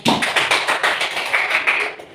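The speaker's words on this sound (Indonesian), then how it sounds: "Beri tepuk tangan di sini." Applause from a classroom audience at a peer-teaching session, a dense patter of many hands clapping steadily for about two seconds, close and fairly loud with no talking.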